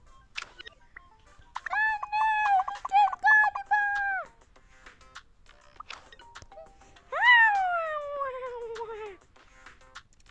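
Close, fairly loud meows: a wavering cry that rises and falls, then after a pause a longer meow that slides downward. No talking.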